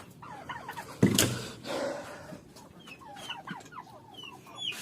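Several hungry chickens cluck and squawk nearby in a busy, overlapping chorus with a turkey, with a sudden loud flap or clatter early on.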